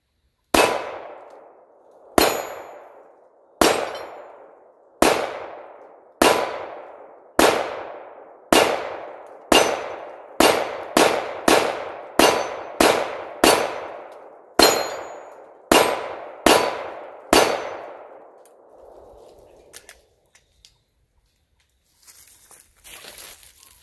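Tisas PX-9 9mm pistol firing 18 rounds, sharp loud shots with ringing decay at an uneven rhythm, some in quick pairs, ending in silence and faint rustling.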